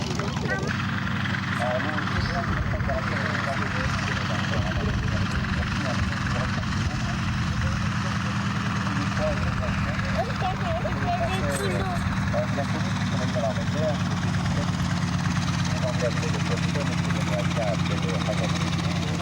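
Vintage WWII-era aircraft engines drone steadily at an air show at Saint André de l'Eure, a continuous loud propeller hum under a commentator speaking throughout.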